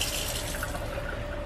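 Water runs from a tap at low pressure in an RV parked at a campground, a steady, close trickle and splash that continues without a break.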